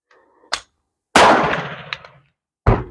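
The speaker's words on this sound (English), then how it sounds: "What I do is release the magazine." The magazine is released from a Zastava M70 7.65mm pistol: a sharp metallic click, then a louder clattering clank that rings out briefly, then another hard click, all close and with no talking.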